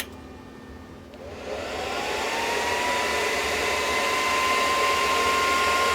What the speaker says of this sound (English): this fan is a little bit too aggressive and too loud